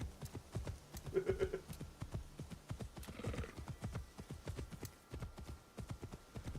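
Horse hooves clip-clopping in the video game Assassin's Creed Shadows, a steady galloping rhythm of close, rapid hoof falls with a brief whinny and rustling from brush along the way.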